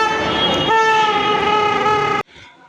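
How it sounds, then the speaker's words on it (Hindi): A plastic toy horn blown in one long, loud, reedy honk of about two seconds that stops abruptly, close by in a home. "सिर्फ भोंपू पसंद करा, और यहीं कहीं बजाने भी लग गई।"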